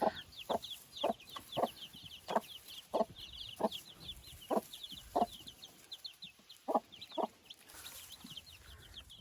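Broody Dominant breed hen clucking softly with her few-days-old chicks in a cage, a series of short, evenly spaced low clucks over high chick peeping, fairly quiet and close.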